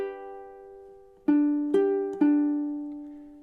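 Ukulele strumming measure 23 of Jimmy Buffett's Margaritaville, with one sustained chord followed by three sharp strums in an even rhythm, each ringing and decaying, close and clear.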